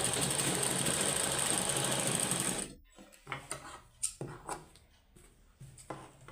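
A sewing machine stitches an old sweater being made into socks, humming steadily at close range for a couple of seconds before stopping, followed by scattered handling clicks and rustles.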